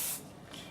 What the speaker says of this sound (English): And then I spray the top of my batting